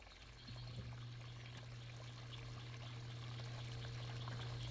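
A newly installed pond pump starts with a steady low hum as water pours and trickles through the filter of a 7000-gallon backyard pond, a continuous close flow that holds even throughout.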